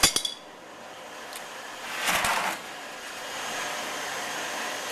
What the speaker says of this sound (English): So with the adjustable wrench, I'm just going to loosen